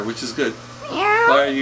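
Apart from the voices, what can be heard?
cat meowing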